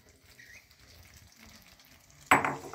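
Paneer and coriander gravy stirred in a pan, with a faint steady sizzle that ends in a sudden loud scrape or clatter of the spoon against the pan near the end.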